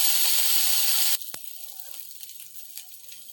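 Neem leaves frying in a pan give a loud, dense sizzle that cuts off abruptly after about a second. A single sharp click follows, then a quieter crackle with faint scraping from stirring.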